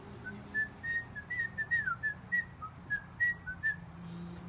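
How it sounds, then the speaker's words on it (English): A person whistles a short, wavering melody outdoors in a series of clear, fairly quiet notes, heard alone against a soft background hush. "So right now I can whistle. I'm outside."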